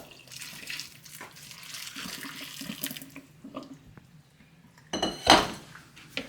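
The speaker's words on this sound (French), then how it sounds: "Et on met de l'eau froide." Cold tap water runs into a bowl of cooked rice noodles, a soft splashing stream that eases off midway before a louder burst of running and splashing near the end, with clinks of dishes and no talk.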